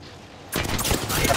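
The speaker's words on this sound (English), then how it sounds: "I'm being shot at." Gunfire in the video game Apex Legends bursts in suddenly after a brief quiet moment, then continues as a loud, dense, unbroken barrage of shots to the end.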